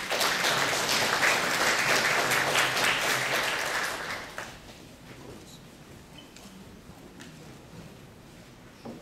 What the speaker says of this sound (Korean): 내빈 여러분께서는 박수로 맞이해 주시기 바랍니다